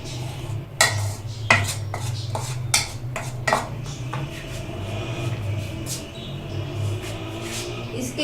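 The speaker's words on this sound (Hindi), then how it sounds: "इसमें half table spoon baking powder डालकर अच्छे से मिक्स कर लेंगे" Flour and baking powder being mixed in a bowl, with a run of sharp clinks and knocks of utensil against the bowl over a steady low hum of the kitchen, close and moderately loud, without talk.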